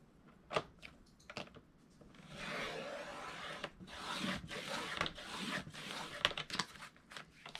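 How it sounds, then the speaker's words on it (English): Excess material is trimmed from a dollar-store placemat, heard as a few sharp snips followed by a long, close rasping, tearing cut that rises and falls for several seconds. "So I am trimming away my excess."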